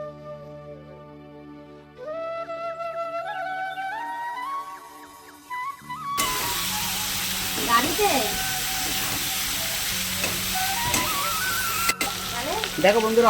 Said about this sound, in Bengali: আর তার মধ্যে দিয়ে দেবো কচুলতি কেটে বেছে রেখেছি